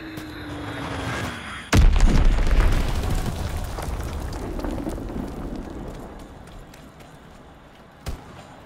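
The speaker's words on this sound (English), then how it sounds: "Enemy bomb incoming! Get to cover!" A heavy bomb explosion in the World War II shooter Call of Duty: WWII lands with a sudden deep boom, then a long rumbling decay, followed later by a second sharp blast.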